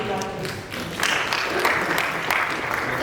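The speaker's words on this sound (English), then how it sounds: "Let's give me a clap, please." A conference audience at a PyCon Uganda 2023 talk breaks into applause, a dense wash of clapping from a hall full of people lasting a few seconds.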